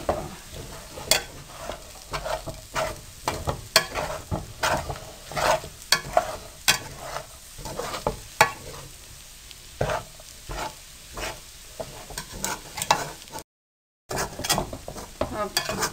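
Dry fruits being roasted and stirred into makhadi halwa in a pan, with repeated scraping and tapping strokes of a spoon over a soft sizzle, moderately close, with no talking.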